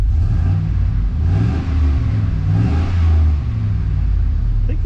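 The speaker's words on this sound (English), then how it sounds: "this thing makes pretty good noise. Might as well fire it up and" A Chevrolet 2500HD truck with a Flowmaster muffler revs its engine, giving a deep, loud, continuous rumble that swells and eases a couple of times throughout.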